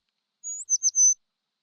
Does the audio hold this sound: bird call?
yes